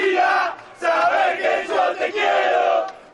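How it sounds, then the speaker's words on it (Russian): Football fans chant together in a street chant battle at a city intersection, a loud crowd of voices shouting in rhythmic bursts with short gaps between phrases. "На перекрестке с улицы Университетской болельщики устроили настоящий баттл."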